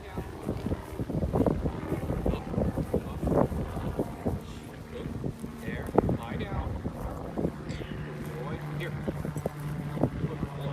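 Gusty wind buffets the microphone outdoors at an airport wildlife hazard demonstration with a bird-hunting dog, rumbling steadily under scattered voices and handling noises, with a faint sustained hum near the end.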